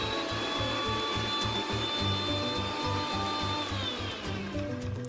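An electric mixer blending homemade olive oil mayonnaise runs steadily and loudly up close with a pulsing, rattling motor drone and a whining tone, uninterrupted throughout.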